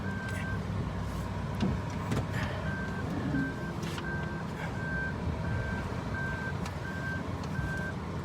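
A 2015 Suzuki Lapin reversing into a parking spot, with a steady, regularly repeating reversing beep over continuous engine and road rumble, with no voices.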